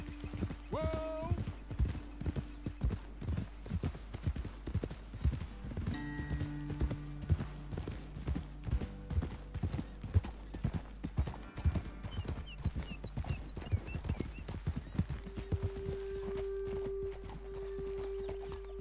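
Horses walking along a trail in Red Dead Redemption 2, steady clip-clop of hooves with continuous footfalls throughout, a brief neigh near the start and faint game ambience behind.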